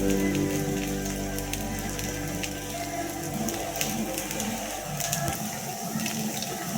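Rava dosa made with wheat rava frying in sesame oil on a hot pan, a steady hissing sizzle with faint crackling, close and continuous, no voices.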